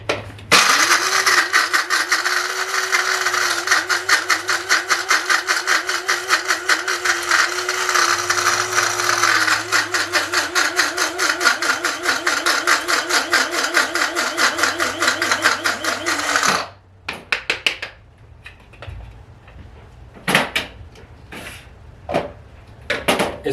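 A grinder runs loud and close for about sixteen seconds, rattling as it grinds seeds and a cinnamon-clove spice blend. The motor whirs unevenly, then stops, and a few brief knocks follow.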